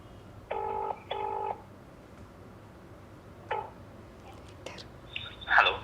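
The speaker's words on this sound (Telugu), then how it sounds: "సో ఇప్పుడు కమిటీ కుర్రోళ్ళలో రఘువరన్ కదా, సో ఆయనకి నేను ఫోన్ చేస్తాను అనమాట" A telephone placing a call: two short, evenly spaced electronic tone bursts near the start, followed by faint scattered clicks and a brief brighter blip, all fairly quiet against a low background hiss.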